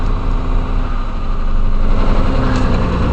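An old car engine idles steadily with the choke pushed in, a low, even rumble close by that stays smooth and settled with no talking.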